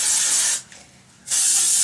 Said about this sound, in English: I'm just going to take this and I'm going to just spray it all over my hair to give it lots of texture and volume.